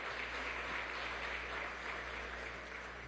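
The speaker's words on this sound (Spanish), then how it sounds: "un aplauso para los CLAP" Audience applause at an international forum of alternative media, a steady wash of clapping from a crowd heard at moderate distance and fairly faint, continuing without voices throughout.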